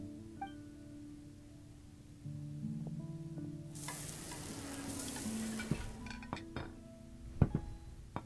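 Food sizzles and fries in a pan in the video game Genshin Impact, with stirring and light clinks of dishes over a steady game music bed, and the frying noise growing louder partway through.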